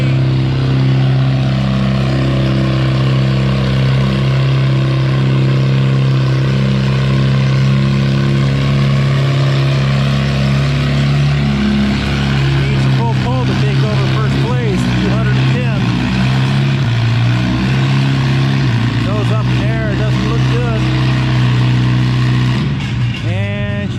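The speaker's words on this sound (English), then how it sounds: "here's the second tractor in the three-way pull-off from All B" A Farmall CA tractor roars steadily at full throttle during a tractor pull, its loud, sustained engine drone close and continuous with wavering pitch toward the end as it strains down the track.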